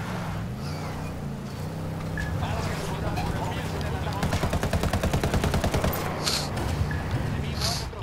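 A mounted machine gun on a buggy in Ghost Recon Wildlands fires a fast, steady burst of rattling shots over a vehicle engine drone, while players talk over it.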